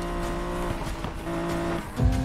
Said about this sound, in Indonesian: Mobilnya, woi, melaju kencang.